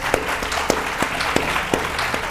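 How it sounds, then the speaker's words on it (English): Audience at a STEM career showcase applauding panelists, dense steady clapping throughout with a few sharper individual claps standing out rhythmically, fairly close and full. "Let's give our panelists a round of applause"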